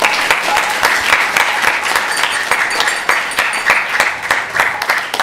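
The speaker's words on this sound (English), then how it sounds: "Please give them a big round of applause." A temple room audience at an ISKCON Balaram Jayanti Sunday evening gathering claps together in a dense, even burst of applause that stays loud and steady throughout.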